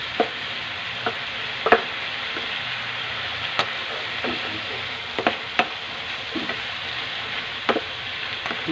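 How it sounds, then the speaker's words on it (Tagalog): Vegetables frying in a pan under a steady soft sizzle, punctuated by sharp intermittent clicks and scrapes of a utensil stirring, close and without talk. "Haluin natin para magsama-sama yung lasa ng gulay."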